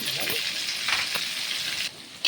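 Onions and tomatoes with turmeric fry in a pan, giving a constant close hiss and crackle with a few soft scrapes of stirring, for mutton with drumsticks.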